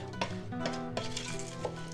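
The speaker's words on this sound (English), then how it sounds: "We give everything a good stir." A utensil scrapes and stirs through a thick plum and apple mixture in a pot, with several soft clinks and a gentle sizzle underneath, close by.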